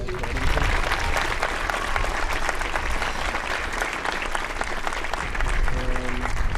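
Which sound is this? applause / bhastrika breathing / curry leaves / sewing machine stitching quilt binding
applause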